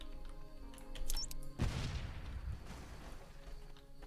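A broadband blast erupts near the middle in a physics sandbox game full of bombs, grappling hooks and balloons, with a low rumble that decays over a couple of seconds after scattered earlier clicks.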